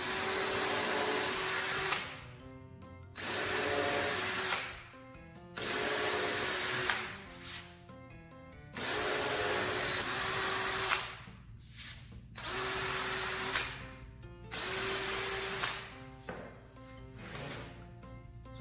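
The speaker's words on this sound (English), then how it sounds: "So try and be extra careful and drill the holes straight down." Power drill boring holes into a soapbox derby car panel, running in about seven separate bursts of a couple of seconds each with short pauses between them, close and steady.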